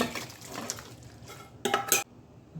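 Cooked mixed vegetables with prawns are scraped from a pot into a bowl, with soft stirring and sliding sounds followed by two sharp metallic clatters of spoon against the pan near the end.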